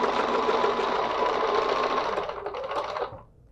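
Sewing machine stitching a quilting design along a template, a fast steady mechanical whir close by that slows and stops near the end.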